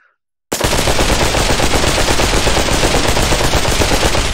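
Sustained automatic gunfire from a gun in the VR shooter Pavlov VR, a loud rapid-fire burst starting abruptly after a brief silence and continuing without pause to the end.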